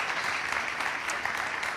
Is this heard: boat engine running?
no